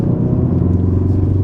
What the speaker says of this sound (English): the satisfying burbles at the end of a gear change just let you know